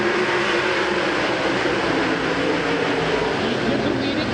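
World of Outlaws sprint cars race on a dirt track, a dense, loud wash of engine roar that stays steady throughout, with a race announcer talking over it.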